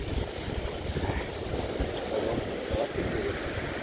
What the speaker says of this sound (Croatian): a ima i valova